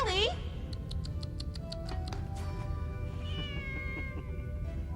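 A cat in the 1987 anime Lily C.A.T. lets out one sharp meow at the start, then a string of high, chirping squeaks and wavering whines over a low, rumbling background.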